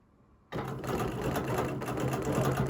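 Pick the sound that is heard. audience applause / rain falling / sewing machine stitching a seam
sewing machine stitching a seam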